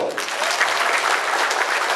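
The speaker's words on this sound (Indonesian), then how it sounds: "tepuk tangan yang keras dulu" Loud, steady applause from a crowd, dense clapping sustained throughout without pause.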